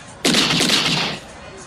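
A single rifle shot at a shooting-gallery game, one sharp close report with a brief ringing tail that fades within about a second.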